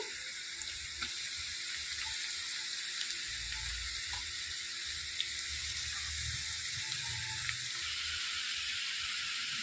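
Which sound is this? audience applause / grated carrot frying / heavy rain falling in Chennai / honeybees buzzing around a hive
grated carrot frying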